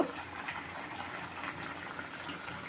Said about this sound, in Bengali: বেশ সুন্দর ফুটছে দেখতে পাচ্ছেন